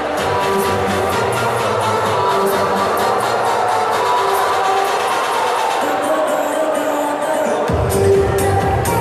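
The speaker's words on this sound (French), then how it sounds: "Léon, sous vos applaudissements." A French basketball hall crowd at a Challans versus Orchies game keeps up a steady roar of cheering and babble, with a dense wash of noise that holds level throughout.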